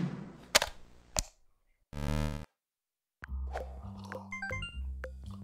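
Sharp retro blips, pops and chiptune zaps from shooting enemies in a Pico-8 shoot-'em-up game, several bursts separated by silences, then a busier run of tonal bleeps over a steady low hum.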